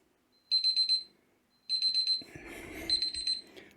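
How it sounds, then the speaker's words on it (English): A 10-minute alarm goes off in repeated bursts of rapid high electronic beeps, three loud clusters with a faint rustling noise between them and no talk. "I'm so good with that 10-minute alarm."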